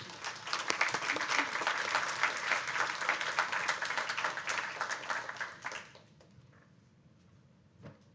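Audience applause welcoming a speaker at a symposium, a steady loud wash of many clapping hands for about six seconds before fading out to a quiet room.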